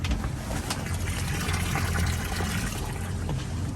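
Water spills from the vents of a ballast bag on a Centurion Fi21 boat, a steady rushing, splashing flow that holds fairly quiet and even throughout.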